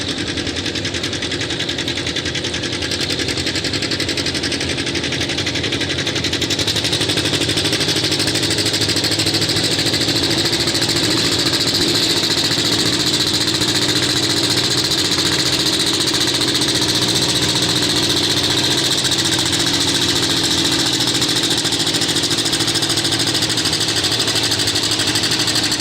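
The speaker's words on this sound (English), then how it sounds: "The John Deere, he lifts the tires and he's underway. John Deere 830." A John Deere 830 tractor pulling a sled at the Zellwood Super Pull. Its engine gives a loud, continuous, labouring roar that rises slightly after the first few seconds, with no talking.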